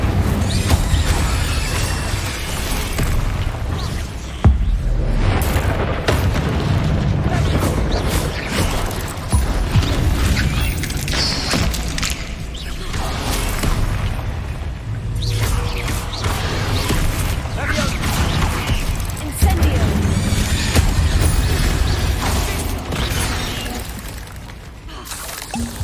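Incendio fire spell in the Hogwarts Legacy video game erupts as a loud, dense burst of roaring flame and crackling shatter, sustained and close, with game voices talking over it.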